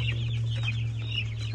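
A chicken clucks close by in a short run of soft, choppy calls over a steady low hum.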